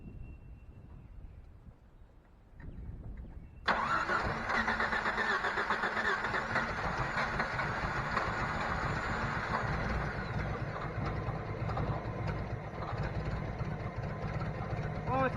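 A Jeep that has sat for three years cranks briefly, then its engine catches and runs loudly and steadily close by, after some quiet mechanical fiddling.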